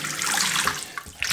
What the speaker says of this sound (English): I'll just put some water in the sink.